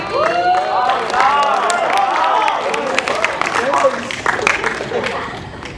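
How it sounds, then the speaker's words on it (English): An audience at a student council manifesto night at KYUEM applauds Harry, scattered claps and light cheering mixed under lively overlapping chatter and voices. "round of applause for Harry, please, guys"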